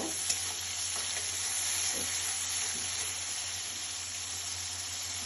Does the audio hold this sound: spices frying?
yes